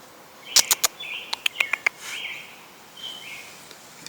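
A small bird chirps close by with a handful of sharp, quick tweets in two short bursts, followed by softer trailing calls against a quiet outdoor background.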